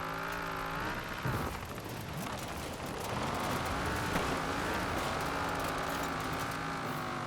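A Cadillac Escalade on off-road tires in Forza Horizon 4 labours uphill off-road, its engine droning steadily and loudly, with rising and wavering pitch and occasional tire scrabble, almost no talk.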